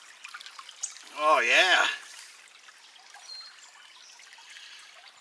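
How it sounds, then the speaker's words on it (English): Water trickles and pours briefly while crushed, mashed-up material is rinsed during primitive gold prospecting outdoors, a short splashing burst under a man's brief remark. "Take her over here and we'll give her just a little bit of a rinse."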